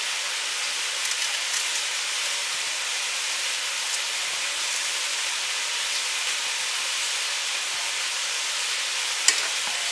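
Onion and mixed vegetables stirred in a frying pan for a simple home recipe, giving a steady, even sizzle and hiss throughout with a brief sharp scrape or clink near the end, no voices.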